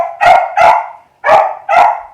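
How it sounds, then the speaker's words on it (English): A dog barks four times in two close pairs, loud and near, each bark full and resonant, with a short pause between the pairs and no other sound. "I'm trying, except he's barking his head off."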